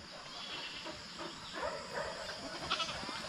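A goat bleats several times at moderate distance outdoors near a farm hut, wavering calls over steady background noise.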